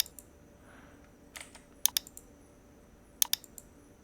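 Computer mouse clicks on a Windows PC, a handful of sharp, close clicks, some in quick pairs, separated by short quiet gaps over faint room noise.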